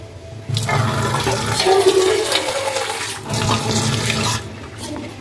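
Water pours steadily into a pan of cooked onions, a continuous splashing, sizzling rush close by that swells midway and fades near the end.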